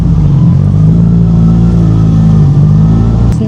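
Suzuki GSX-S1000 motorcycle engine in third gear at low road speed, a loud, close, steady droning hum with a slight throttle swell, running continuously with no talk.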